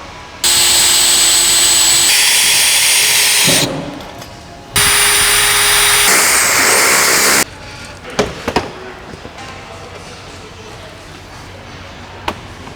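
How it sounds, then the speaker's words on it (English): A power drill bores an elongated bolt hole for a car's front splitter in two loud, sustained bursts of whirring, followed by a few sharp knocks and clatters. "you can drill the hole a little bit higher, so you're creating an elongated hole for the bolts to go through"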